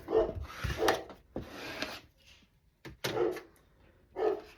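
A dog barks several times in short bursts, moderately close, with quiet pauses between the barks.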